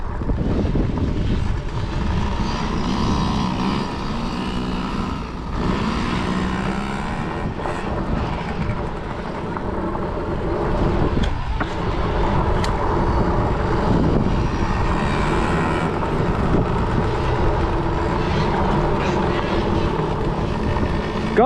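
Kids' dirt bikes racing at full throttle on the Brooksville motocross track, a steady loud engine drone throughout with people shouting and talking over it.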